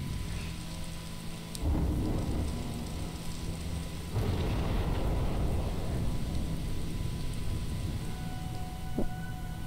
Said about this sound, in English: It was raining because of this monument?